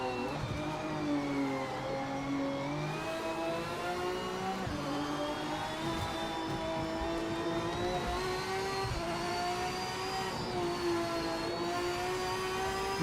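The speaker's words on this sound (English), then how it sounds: "most of the cars like this, they sound amazing. Like, listen to this V12" V12 race car engine in the Project Motor Racing video game, its tone rising and falling smoothly with gear changes and revs, sustained and moderately loud throughout with a harmonic, howling character; no voices.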